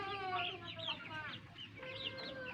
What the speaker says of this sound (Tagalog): Upa yun na crossbreed din na Chinese chicken at native chicken.